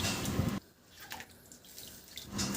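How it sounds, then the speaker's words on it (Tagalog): Water poured from a tap into a cooking pot for tuna sinigang, a soft running splash in the middle of the clip between louder kitchen noise at start and end. "maglagay na ako ng tubig"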